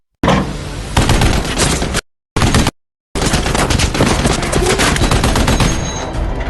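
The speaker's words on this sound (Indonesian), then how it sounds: "Sang kapten terpaksa menembak anak buahnya yang kabur karena dianggap melanggar perintah" Heavy gunfire rings out in a film war scene, dense bursts of automatic fire with sharp shots cut by two brief silences, loud and close with no talk.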